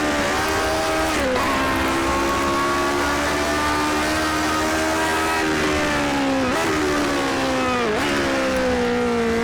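A 1967 Lotus 49 race car in the Project CARS 2 racing game on the Nordschleife, its engine droning steadily at high revs with several quick dips and rises as the driver shifts or lifts, loud and continuous with no talk.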